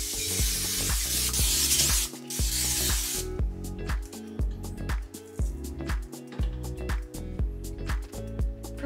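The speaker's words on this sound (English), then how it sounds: "Spray some oil." Cooking oil sprayed from a can over surf perch fillets before baking, heard as a long close hiss followed by shorter bursts mixed with light rubbing and handling noises, with no voices.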